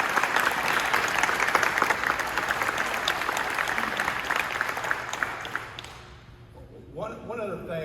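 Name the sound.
audience applause for rookie basketball players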